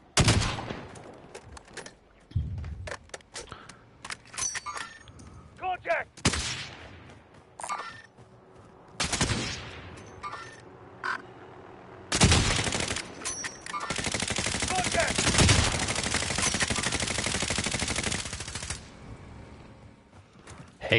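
Gunfire in Warzone, bursts of rapid automatic shots and single cracks scattered through the stretch with a long sustained burst near the end, loud and close, with a player talking in between.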